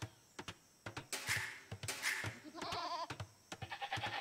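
Sheep in the Age of Empires strategy game bleating a few times amid rapid mouse and keyboard clicking, with the bleats standing out briefly over the clatter.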